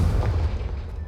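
A Confringo blasting spell explodes against pillars in Hogwarts Legacy, a single deep, loud boom with a rumbling low-end tail that fades over about a second.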